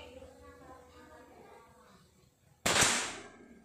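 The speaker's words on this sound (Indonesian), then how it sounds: "ini bidikan saya satu di sini ya kita coba dulu untuk kita uji coba yaitu menembak lubang" Single sharp shot from a PCP air rifle firing Hercules pellets, a loud close crack with a brief decaying tail following a few seconds of quiet room noise and low murmuring.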